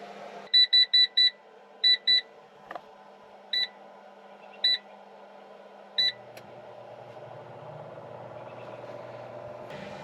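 An air fryer in a truck camper gives a series of sharp electronic beeps as its buttons are pressed, first a quick cluster of four, then spaced single and double beeps, over a steady low engine-like hum.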